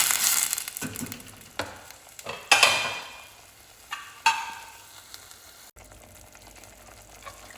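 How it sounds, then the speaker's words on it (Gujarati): Whole chilies and peas sizzle as they roast in a pan for matar pulao, with a few sharp clatters of stirring early on and a soft, steady fry that fades quieter toward the end. "આખા જ મરચાં, વટાણા નાખી દેવાના, ધોઈને રેડી રાખ્યા હતા. હવે આને બરાબર શેકાવા દેવાનું 2 મિનિટ."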